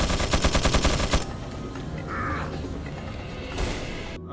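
Gunfire in a Resident Evil video game, a rapid run of loud automatic shots for about a second, then a lower rumble of game sounds and a brief whoosh.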